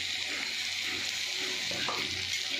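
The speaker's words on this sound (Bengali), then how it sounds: "আমি 4টে কাঁকড়া নিয়ে নিয়েছি, এই টমেটো পেঁয়াজ দিয়ে ভাজা ভাজা করব।" Four crabs fry with tomato, onion, chilli powder and pepper, producing a steady close, bright sizzle with occasional bubbling and stirring sounds, no one speaking.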